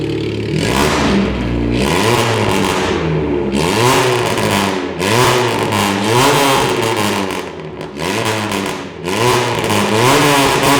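A loud, raspy car exhaust with a straight pipe and Katanima system revs repeatedly in rising and falling sweeps, close and unmuffled, with no voices.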